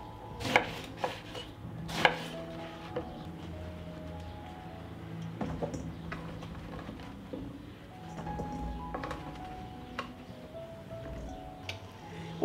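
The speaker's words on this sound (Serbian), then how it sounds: "I ovako ću ih iseći na ovakve komade. I tako ću iseći sav patliđan." A knife chops eggplant into pieces on a board, giving a dozen or so sharp, irregular knocks at close range over quiet background sound.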